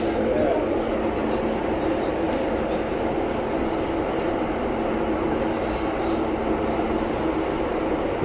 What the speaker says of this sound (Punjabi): ਮੈਟਰੋ ਦੀ ਸਪੀਡ ਕਹਿੰਦੇ ਬਹੁਤ ਤੇਜ਼ ਜਾਂਦੀ ਹੁੰਦੀ ਆ